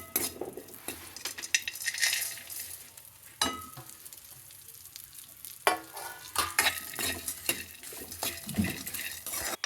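Cashews, almonds and pistachios fry in a pan, a soft steady sizzle broken by repeated scraping and clinks of a metal spoon stirring against the pan, up close with no talking.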